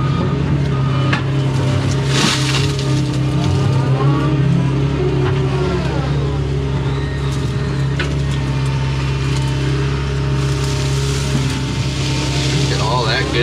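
Excavator digging into a ditch bank while cleaning a ditch, heard from inside the cab: a steady, loud diesel engine drone fills the whole stretch, with hydraulic whine and scraping bursts rising over it, and someone talks at times.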